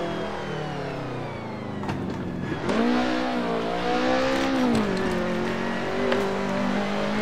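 Simulated race car engine in Assetto Corsa, a steady close drone that dips, then surges into a strong rising pull and wavers through gear changes and throttle shifts, loud and continuous without any voices.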